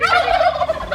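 A turkey on a small farm gobbles once, a rapid, loud, wobbling burst heard up close for about a second.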